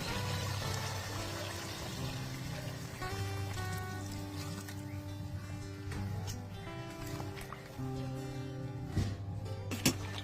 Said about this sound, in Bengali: মাংসটা কষানো হয়ে গেছে, এবার আমি ফুটন্ত গরম জল দিয়ে দেবো।